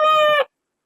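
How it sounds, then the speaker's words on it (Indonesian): A recorded sheep bleat plays once, a single sustained harmonic bleat of about half a second that stands alone and fairly loud, with no talk over it. "Itu adalah seekor domba."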